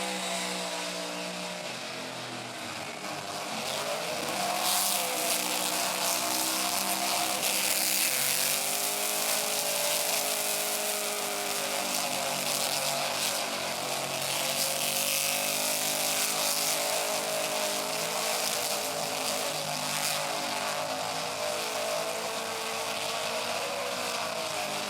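A supercharged drag car doing a burnout at a Cleetus and Cars burnout contest: a loud, sustained engine howl held near the rev limiter with wavering pitch, blended with a harsh screaming roar of spinning tires, continuous for the whole stretch.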